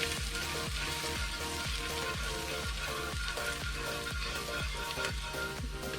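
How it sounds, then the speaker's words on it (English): Garlic sizzles and crackles steadily in hot oil in a pan, a dense, continuous frying hiss, close and loud throughout. "I'm gonna burn the garlic for a bit just to get the fragrance from the garlic and the oil"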